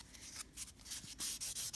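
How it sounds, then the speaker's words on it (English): Double-sided 180/240 grit buffer block rubbed briskly in short rhythmic strokes, a close, quiet scratchy swish repeating several times. "And this works as a sanding block. It has two sides, so you can buff, smooth"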